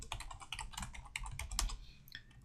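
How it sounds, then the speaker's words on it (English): Quick, irregular keystrokes on a computer keyboard, close and clear, typing a short word and hitting tab with no one speaking. "So here I'm typing butane and tab completing it."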